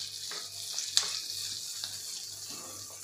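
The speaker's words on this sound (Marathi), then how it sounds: "यामध्ये घालायचं आहे आपल्याला 7 ते 8 लसूण पाकळ्या आणि त्यानंतर थोडंसं आपल्याला 2 मिनिटे परतून घ्यायचं आहे" Seven or eight garlic cloves sautéing in melted butter for methi bhaji, with a soft, steady sizzle and a few light clinks and scrapes of stirring, fairly quiet and close.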